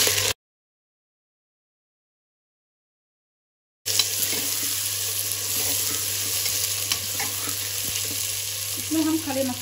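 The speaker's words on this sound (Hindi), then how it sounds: "इसमें हमने हाफ कप तेल डाल दिया है और इसमें हम ये 400 ग्राम प्याज ऐड कर देंगे" 400 grams of onions fry in half a cup of hot oil for a whole-spice stew, a loud continuous sizzle that starts after a brief silent gap and carries on steadily close by.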